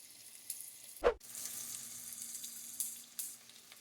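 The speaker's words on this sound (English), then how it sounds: "we're going to start by frying up some bacon" Three strips of bacon fry in a cast iron frying pan with a steady, close crackling sizzle, broken by one brief clatter early on and a few louder pops.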